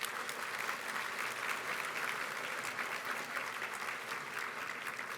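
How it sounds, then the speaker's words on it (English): A luncheon audience gives a round of applause, many hands clapping in a steady, fairly distant wash that holds evenly throughout. "Please give them a hearty round of applause."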